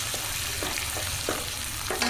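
Pangas fish curry sizzling in a pan as chili powder is stirred in, a steady frying hiss broken by regular scraping strokes of the spoon about every half second.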